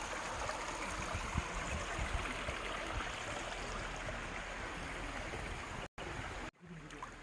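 A mountain stream on Yongmunsan in autumn rushes steadily in a dense, continuous wash of flowing water, loud and close, with two brief dropouts near the end.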